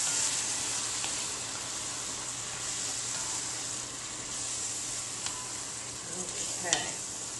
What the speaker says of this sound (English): you're going to add your vegetable broth, your 1 cup of vegetable broth